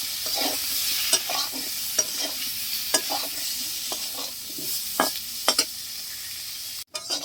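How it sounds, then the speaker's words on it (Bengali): Potatoes fry in mustard oil with turmeric and salt, a steady sizzle punctuated by repeated scraping stirs and sharp spatula taps against the pan, close and fairly loud, with no talk. "দিয়ে দিচ্ছি সরষের তেল, দিয়ে দিচ্ছি আলু, দিচ্ছি হলুদ লবণ, ভালো করে মিশিয়ে দিচ্ছি"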